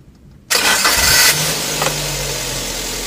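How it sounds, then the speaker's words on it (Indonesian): A car engine cranks and catches abruptly after a moment of near silence, roars briefly, then settles into a steady idle hum, close and loud. "ini sekarang kita hidupkan mesinnya"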